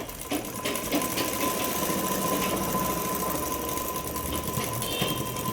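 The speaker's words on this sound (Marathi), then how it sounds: "अशा पद्धतीने शिलाई मारायची" A sewing machine stitches a fitting seam on a blouse with a continuous close mechanical hum and rapid needle rattle that runs steadily throughout, with no voices heard.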